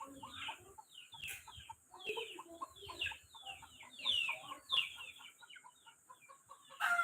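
Chickens cluck and squawk in a busy, overlapping flurry close by as they are being shut in, with occasional sharper calls and a few faint background knocks.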